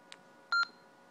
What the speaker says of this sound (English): Beeps once, repeater acknowledges the transmission.